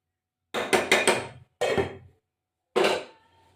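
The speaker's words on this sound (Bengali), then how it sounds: "কড়াই দিয়ে আর একটা এইভাবে ঝাঁকাচ্ছি" A kadai wok holding chicken biryani is shaken on the stove, making metallic rattling bursts: three quick jolts, a pause, then two more separate shakes, close and clear against silence.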